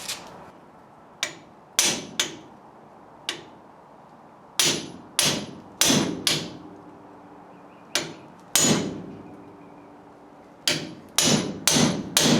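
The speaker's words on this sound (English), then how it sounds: "you just beat on this shaft with a hammer and it should break loose" A big hammer beats on a drop spindle shaft from a RAM 50 truck, about seventeen sharp, ringing metallic blows at an irregular pace, some landing in quick pairs, loud and close with quiet gaps between.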